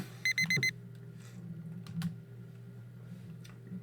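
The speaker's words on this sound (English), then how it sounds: "I hit the snooze button on my alarm clock." A bedside alarm clock gives a short burst of four quick, bright electronic beeps, then falls silent apart from faint room noise and soft clicks.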